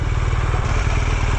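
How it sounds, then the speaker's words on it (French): A BMW R1200GS Exclusive 2017 motorcycle engine runs close and loud, a steady throbbing boxer-twin pulse with a rapid, even rhythm and no talk. "Elle a quand même un joli bruit la moto"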